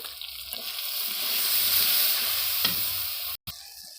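Cumin and ginger powder spice paste sautéing in a pan, a steady close sizzle with occasional stirring scrapes and a brief cut near the end, no talk.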